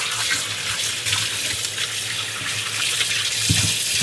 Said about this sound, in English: I like to wash this really thoroughly.